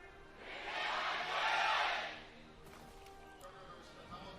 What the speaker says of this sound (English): GRIFFIN getting the bigger cheer this time around